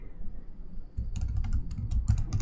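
Quick, uneven keystrokes on a computer keyboard as a command is typed at a prompt, close and fairly loud over a low background hum, with no talking.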